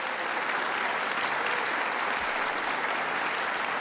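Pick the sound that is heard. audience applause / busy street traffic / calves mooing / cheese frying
audience applause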